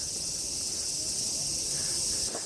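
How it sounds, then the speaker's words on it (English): Cicadas at Meiji Shrine in Tokyo make a dense, shrill, continuous buzz, loud and steady throughout with no pause, over faint ambient background noise. "These cicadas, man."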